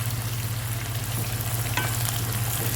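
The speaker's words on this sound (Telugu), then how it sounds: "మనం ఇప్పుడు ఈ ఉల్లిపాయలు ఫ్రై చేసుకున్నామండి" Sliced onions frying in oil in a pan, a steady close sizzle and crackle over a low continuous hum, with a brief stir partway through and no talking.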